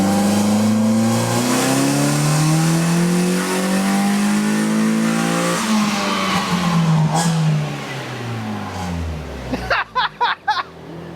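A drift car's engine with a 75-shot of nitrous revs hard and loud in second gear, its pitch climbing and falling in long pulls, then breaking into a few sharp, choppy blips near the end.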